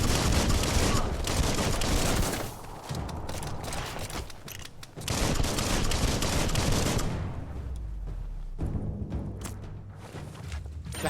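A bomb lobber weapon in the Biomutant video game fires repeatedly, producing bursts of dense, loud explosive blasts and rattling gunfire-like impacts, broken by short quieter gaps.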